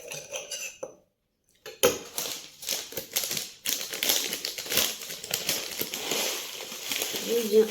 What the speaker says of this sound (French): viens verser mon petit muesli